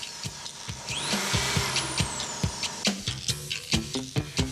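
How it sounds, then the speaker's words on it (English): A compact Eckold DFB 3045 electro-hydraulic clinching unit runs on a 220-volt socket. Its motor whirs closely, broken by a series of sharp, rhythmic clacks and pulses. "First, the compact, easy-to-use electro-hydraulic clinching unit DFB 3045."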